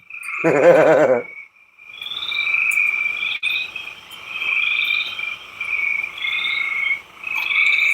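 Spring peepers and toads calling at night: a loud, wavering trill first, then a continuous chorus of high, rising peeps repeating in a regular rhythm, fairly close and with no voices.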